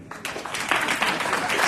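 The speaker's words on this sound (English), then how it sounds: "Please, can you give a shout and a loud hand of applause for Mrs. Stella Asare?" A community gathering's audience bursts into applause, dense clapping swelling after a brief quiet start and holding steady and fairly loud.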